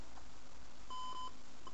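The end-of-game buzzer in the ZX Spectrum game World Series Basketball sounds as a single sustained electronic beep, steady and pitched, followed by a brief second blip over faint background hiss.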